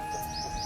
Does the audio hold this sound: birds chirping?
yes